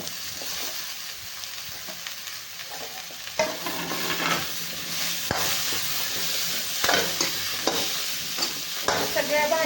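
Cauliflower and potato pieces sauté in hot spiced oil, giving a steady close sizzle and frying crackle with repeated stirring scrapes throughout.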